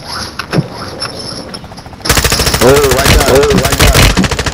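Rapid automatic gunfire in Call of Duty erupts after a quieter stretch, a dense rattling burst that continues steadily while players talk over it.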